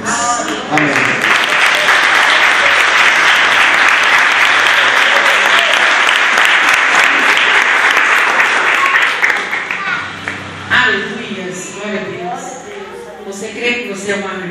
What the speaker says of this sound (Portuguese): E nós louvaremos ao Senhor com palmas.